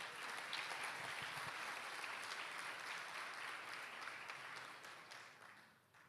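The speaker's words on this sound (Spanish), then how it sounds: "denle un aplauso al Señor por esto" A women's church gathering in Spanish breaks into applause, a steady, even wash of many hands clapping that holds for several seconds and then fades out at the end.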